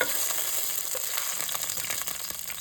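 Garlic and spices fry steadily in hot oil in a pan for Telugu-style okra fry, a bright, continuous close sizzle that carries on alone without any talk.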